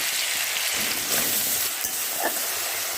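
Water from a rinsed chili and soy sauce bowl hits vegetables frying in a pan, producing a loud, continuous hiss with a few brief spattering bursts and no voices.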